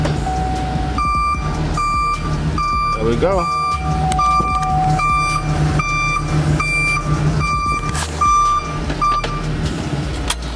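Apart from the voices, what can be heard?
newly installed vehicle backup beeper beeping in reverse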